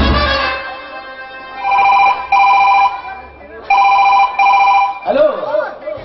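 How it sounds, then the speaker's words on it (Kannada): A telephone rings on stage during a village fair drama performance, two pairs of bright electronic trills sounding over a background of voices and crowd murmur, followed by speech. "ಈಗಿದ್ದೀಗಲೇ ಇನ್ಸ್ಪೆಕ್ಟರ್ ಜನಿಗೆ ಫೋನ್ ಹಚ್ಚಿ ಮಾತಾಡಲೇಬೇಕು."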